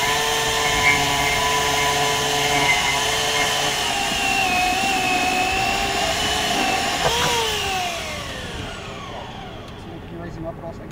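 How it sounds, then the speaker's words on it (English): A bandsaw cuts through a metal fence to free an impaled patient during a rescue, a loud steady whine with shifting pitch that drops and trails off as the blade finishes and slows. "we showed you how to remove somebody from an impalement using a bandsaw"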